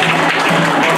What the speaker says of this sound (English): How about a little spontaneous applause for me right here?